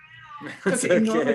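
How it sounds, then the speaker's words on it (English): A pet cat meows loudly and repeatedly indoors, close by, mixed with a woman's speech during an interview. "I'm sorry about my cat."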